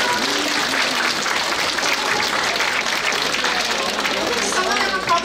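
Dense, steady applause from the audience at a lunar new year celebration in Nassau, greeting young performers, sustained and loud throughout with some crowd chatter mixed in.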